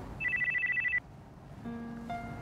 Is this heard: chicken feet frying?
no